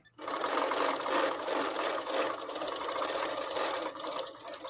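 A Handi Quilter Moxie long-arm quilting machine stitches at a close stitch length for micro stippling, a steady, loud, continuous mechanical whir that runs unbroken for several seconds after a brief start.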